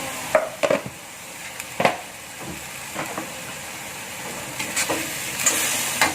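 Spicy fern greens being stirred in a pan, with small scraping and clattering stirs scattered over a quiet sizzle, several distinct touches close by.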